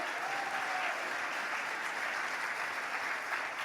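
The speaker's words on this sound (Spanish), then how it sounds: "Aplauda y glorifica al Señor." A church congregation applauds in steady, dense clapping that fills the whole moment at an even level, with a faint voice rising briefly near the start.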